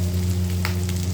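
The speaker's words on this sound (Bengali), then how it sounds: "আমি মশলা দিয়ে ভালো করে নাড়াচাড়া করে নিচ্ছি।" Tandoori masala being stirred in a hot pan, a steady close sizzle and frying crackle over a low hum, with a brief scrape of stirring partway through.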